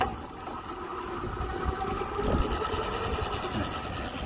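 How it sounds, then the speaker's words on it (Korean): A Bafang 500W 48V electric bicycle hub motor runs on pedal assist level 1, giving a steady, close whirring drone with a faint raspy texture that rises slightly midway. "모터가 작동합니다."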